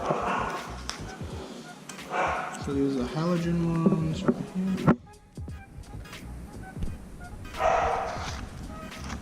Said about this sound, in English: Excuse the puppies barking in the background.